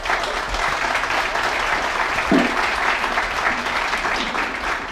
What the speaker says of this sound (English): Round of applause for Dungloe